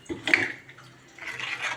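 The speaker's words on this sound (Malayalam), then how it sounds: "ഞാൻ ഈ മിക്സിയിൽ നിന്ന് കഴുകിയ വെള്ളം കൂടി ഒഴിക്കുകയാണ്" A short pour of water used to rinse a mixer jar splashes into a pot of curry, with a faint clink of a container, brief and close.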